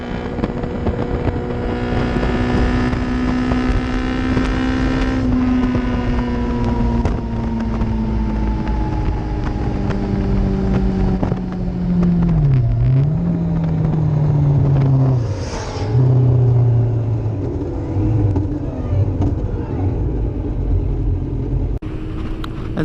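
Yamaha FZS600 Fazer motorcycle on a ride, its engine droning steadily with rising and falling pitch through gear changes, under constant loud wind rush across the microphone, with no talking.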